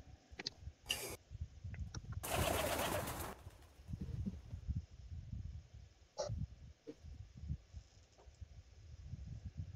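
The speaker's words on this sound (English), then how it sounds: "Birds." Pigeons coo in soft, low repeated calls amid quiet background rumble and a few sharp clicks and bursts of noise, faint and somewhat distant.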